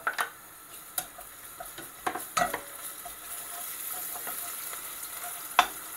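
Ginger and garlic fry with softened onions in a pan, a low sizzle broken by sharp clicks and taps of a spoon against the pot, moderately quiet with no voices.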